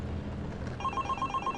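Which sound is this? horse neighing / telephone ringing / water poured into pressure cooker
telephone ringing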